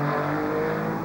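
Engine of a 1995 Porsche race car, number four, built for the IMSA series, roaring steadily at high revs in a Porsche Challenge support race, loud and continuous throughout the moment.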